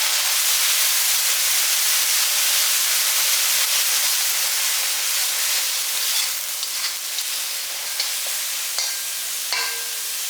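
Onion paste hits hot oil for an okra tamarind curry, giving a loud, continuous, close sizzle that holds steady throughout, with no voices.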